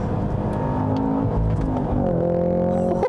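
Cadillac CT5-V Blackwing V8 super sedan with a manual gearbox, set to track mode, revving hard with a loud, throaty engine note that climbs and shifts in pitch, heard from inside the car with no talking.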